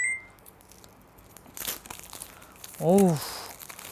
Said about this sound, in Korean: 비닐을 뜯어보니까